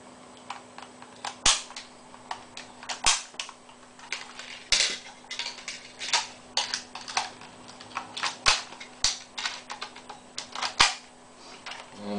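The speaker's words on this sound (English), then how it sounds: "There is couple of missiles there that fire and the buttons at the back." Spring-loaded missiles on a toy Obi-Wan Kenobi Jedi Starfighter from Episode II fire and its back buttons are pressed, giving a string of sharp plastic clicks and snaps, close and fairly loud, with no talking.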